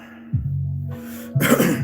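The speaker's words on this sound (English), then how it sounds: "I'm coughing so much stuff up" A person coughs up phlegm, two rough, throaty bursts about a second apart, close and fairly loud.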